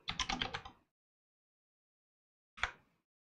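Quick keystrokes on a computer keyboard typing a search for a DisplayPort to HDMI adapter: a dense burst of clicky taps, a long pause, then one short final flurry, close and clear with no talking.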